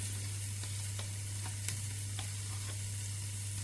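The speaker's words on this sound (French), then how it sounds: "N'oublie pas les lardons qui sont sur le feu." Lardons frying in a pan on the stove make a soft, even sizzle with a few faint ticks and clicks over a low electrical hum. No voices are present.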